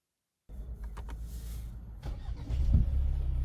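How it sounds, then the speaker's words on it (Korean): A tuned new-model Kia Sorento engine starting, a short cranking whir that catches and rises into a louder, steady idle hum close by. "차주분 시동 한 번 걸어줘요"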